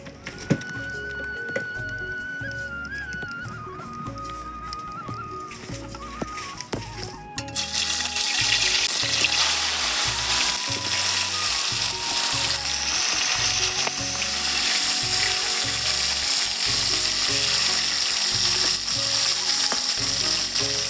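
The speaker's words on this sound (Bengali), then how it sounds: "মাছগুলো এবার ভেজে নিচ্ছি। কড়াই গরম হয়ে গেছে," Pieces of snakehead fish hit hot oil in a wok and fry with a steady, loud sizzle that jumps up sharply partway through and keeps crackling evenly to the end.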